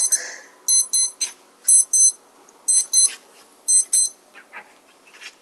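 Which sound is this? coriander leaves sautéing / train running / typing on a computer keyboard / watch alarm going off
watch alarm going off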